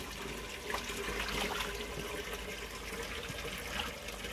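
Water pours steadily into a bucket and a watering can below a garden sink, a continuous close splashing and trickling stream with no speech.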